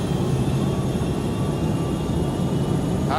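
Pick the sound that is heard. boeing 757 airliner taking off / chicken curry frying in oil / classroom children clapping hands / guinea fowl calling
boeing 757 airliner taking off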